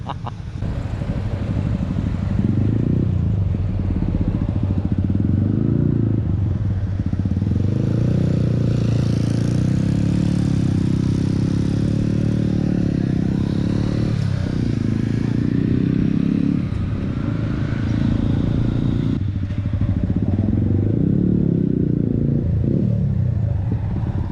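A Yamaha XSR155 motorcycle on its stock exhaust rumbles close by with a steady low engine drone, rising and easing as the throttle changes, with faint background clatter during a group ride in Ayutthaya.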